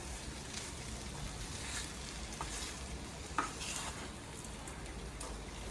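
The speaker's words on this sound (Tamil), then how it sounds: "அதையும் போட்டு நல்லா கிளறிக்கலாம்" Mango pickle with asafoetida being stirred in a pan, a steady soft sizzle with faint scraping throughout and one brief sharp clink near the middle, no talking.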